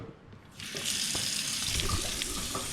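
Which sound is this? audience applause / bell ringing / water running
water running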